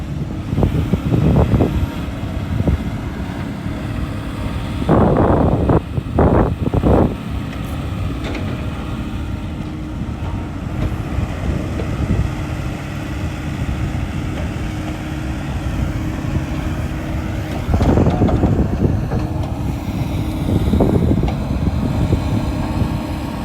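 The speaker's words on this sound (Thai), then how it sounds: "ลมค่อนข้างแรงครับตอนนี้" Strong wind beats on the microphone near a small SANY SY75C excavator at work in a tight space, giving a steady low rumble with several louder buffeting gusts.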